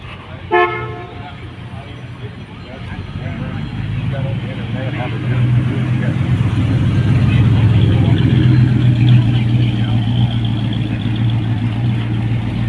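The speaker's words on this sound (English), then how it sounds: "More muscle cars passing by." Muscle cars such as Camaros passing at a classic car show in Roanoke, Virginia, a short horn toot at the start, then engines rumbling and swelling louder as the cars roll by close, with voices in the background.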